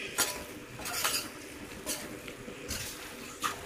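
A metal spoon stirs Kerala-style chicken curry in a pot, giving quiet, irregular clinks and scrapes against the pot's side, with a few sharper taps spaced through a soft background.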